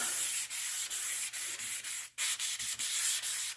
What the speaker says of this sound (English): I want to make sure I sand my moldings as well.